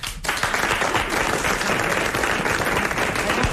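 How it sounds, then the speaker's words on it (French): Audience applause on a 1995 French television show, dense and sustained clapping from a studio crowd that fills the whole stretch at an even level without talk. "Applaudissements, mandat."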